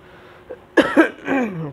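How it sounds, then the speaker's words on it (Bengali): An adult with a mild cold gives two quick, close coughs, then a short voiced throat sound trailing off. All of it is brief and fairly loud against a quiet room. "কাশি হচ্ছে ঠান্ডা লেগেছে হালকা"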